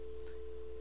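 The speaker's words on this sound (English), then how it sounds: "if I press a new call, I get a dial tone" A steady, unbroken telephone dial tone, a single low hum held at an even level for under a second, faint and alone.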